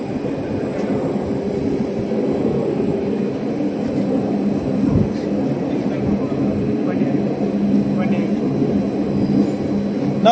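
A 10 HP, 7.5 kilowatt monoblock pump running continuously, a dense steady mechanical drone and hum with a thin high whine, loud and close throughout.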